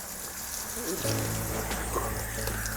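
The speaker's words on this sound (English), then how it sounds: "Get the water good and hot and just really rinse it." Hot tap water runs and splashes steadily over a bleached cotton spiral tie-dye t-shirt being rinsed, a continuous close hiss with a low hum beneath.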